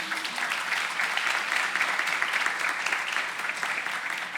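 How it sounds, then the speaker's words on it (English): An audience at a health literacy summit applauds steadily, a dense, continuous roar of many hands clapping at full strength throughout, close and loud with no talking over it. "deserve a round of applause"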